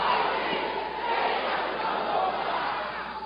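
At a midnight prayer meeting, a crowd shouts together in a dense, continuous roar of many voices, loud and sustained throughout.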